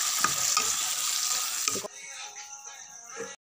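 Duck meat and pumpkin sizzle hard in a hot pan until hot water is poured in, the loud hiss cutting off abruptly into quieter bubbling and crackling.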